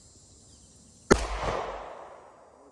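One sharp, loud gunshot from a small handgun at an outdoor shooting range cracks out alone and then rings off into a fading echo.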